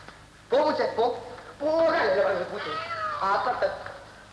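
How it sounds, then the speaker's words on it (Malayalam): A cat meows repeatedly in long, drawn-out, wavering cries, close and fairly loud, over a low steady background hum. "ഇതെന്താ ഈ പൂച്ച ഇങ്ങനെ നിങ്ങളുടെ പുറകെ?"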